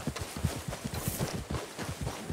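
Horse hooves pound at a run in the Red Dead Redemption 2 video game, a fast, steady patter of dull thuds that continues close and fairly loud throughout.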